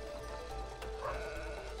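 A sheep bleats once, fairly clear, in the video game It Takes Two, over a busy, constant game background.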